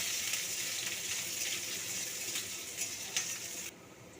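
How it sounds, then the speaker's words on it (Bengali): Chopped onion with dried red chilli and a little five-spice mix frying in hot oil, a steady close sizzle with faint clinks, ending abruptly as the frying noise drops away near the end. "পেঁয়াজটা আমি একটু লাল লাল করে ভেজে নেব"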